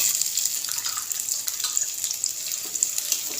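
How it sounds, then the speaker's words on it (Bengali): Chopped onions hit hot oil in a pan and sizzle steadily, a bright, continuous hiss with fine crackling that holds close and even throughout, with no voices. "তেল ভালোভাবে গরম হয়ে গেলে এর মধ্যে দিয়ে দিচ্ছি পেঁয়াজ কুচি।"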